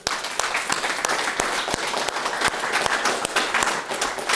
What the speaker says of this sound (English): can all you guys help me give a big round of applause for all these parents?